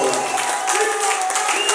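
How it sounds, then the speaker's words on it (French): A semi-final audience applauds and cheers for a performer, a dense, steady clatter of clapping with shouting voices mixed in throughout. "on va faire des acclamations pour Pinorex"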